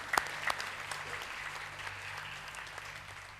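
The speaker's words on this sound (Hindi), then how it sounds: "इसलिए अपने लिए ताली बजा लो" An audience at a Gita gathering in Pune clapping, a dense, steady round of applause heard from a distance in a hall.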